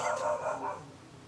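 Dog barking a few times in the background, a short run of cross-sounding woofs heard indoors and not very close.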